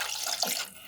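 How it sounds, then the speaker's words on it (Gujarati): Water splashes steadily into a pot of dal for a Gujarati dal papad curry, a short, close, even pour with no voices. "હવે આપણે એમાં પાણી એડ કરીશું"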